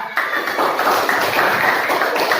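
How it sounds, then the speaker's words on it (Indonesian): Classroom applause for a student after a height-measuring demonstration, a dense patter of many small hands clapping steadily and fairly loud for about two seconds with no talking. "Itu kita beri tepuk tangan juga untuk Mbak Cika."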